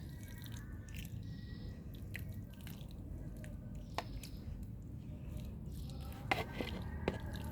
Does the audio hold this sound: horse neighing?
no